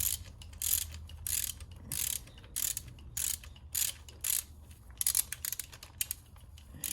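A ratchet loosens spark plugs on an Audi S3 8V engine, repeated quick clicking bursts in an irregular rhythm, close and fairly quiet, with no talking.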